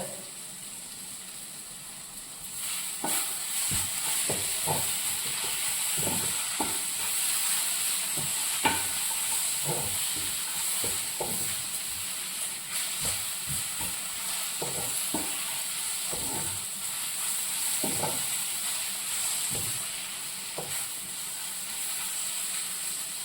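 Curry leaves sizzle steadily in a hot frying pan among sautéed ingredients for a white chickpea dish, with a spatula scraping and stirring in irregular strokes over the constant frying hiss, close and without talk.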